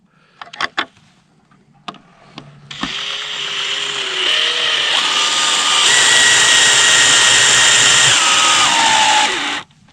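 Power drill driving screws through corrugated greenhouse roofing into 1x lumber: a few short bursts, then a long loud steady whine with stepped pitch changes, close and alone.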